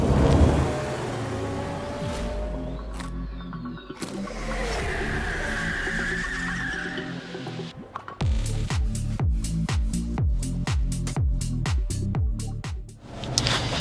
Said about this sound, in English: we're on the off-roading bit of the drive that with this Subaru Crosstrek Wilderness